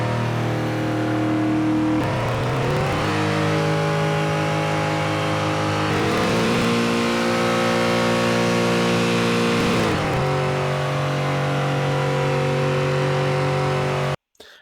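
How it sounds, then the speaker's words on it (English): Synthesized car engine sweep whose RPM and pitch climb steadily upward, a loud continuous tonal drone rising in pitch, with slight shifts in texture every few seconds before cutting off abruptly near the end. "the RPM and the pitch is rising as I move it to the right. That's because we're using a engine sweep that is going upwards."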